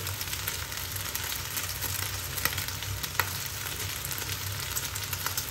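Homemade Japanese yakisoba stir-fry noodles fry in a pan with a steady, quiet sizzle. Faint crackles and small pops come through, with no talking.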